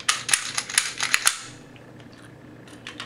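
A Walther PPS handgun is checked empty, giving a burst of sharp metallic clicks and clacks as the slide is racked and worked, followed by quieter faint handling noises.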